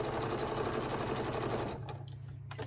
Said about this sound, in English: gonna sew a quarter of an inch right down this line here on this side